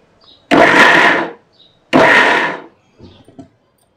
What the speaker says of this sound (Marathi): हे सर्व गहू मी आता मिक्सरला वाटून घेते